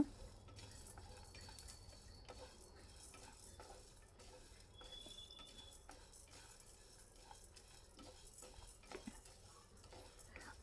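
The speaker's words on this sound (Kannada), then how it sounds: "ಬೆಳ್ಳುಳ್ಳಿ ಎಲ್ಲ ಚೆನ್ನಾಗಿ ರೋಸ್ಟ್ ಮಾಡ್ಕೊಳ್ಳೋಣ" Faint, close scraping of a spatula stirring garlic roasting in a pan, with light clicks and a soft sizzle underneath that keep up unevenly and stay quiet for the whole stretch.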